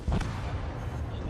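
A torpedo hit explodes in the naval battle game World of Warships, fired from a Yugumo destroyer: a single muffled boom with a rumbling tail, moderately loud in the game mix.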